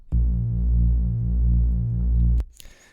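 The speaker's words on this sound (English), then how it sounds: "my typical way to make this kind of a Reese bass is by taking two sine waves" A deep, sustained Reese bass drone from two detuned sine waves with a slow throbbing beat, holding steady for about two seconds before cutting off into a brief noisy tail.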